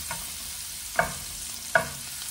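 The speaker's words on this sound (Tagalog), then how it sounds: "Tapos ilagay natin ang bawang at sibuyas na ating hiniwa kanina." Garlic and onion fried in hot oil in a pan give a steady broad sizzle, broken by two sharp scraping stir strokes about a second apart, with no talking.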